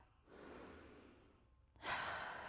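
During a seated yoga side stretch, a quiet, close breath draws in slowly, pauses, then is released as a stronger, airy exhale, both soft and unaccompanied by talking.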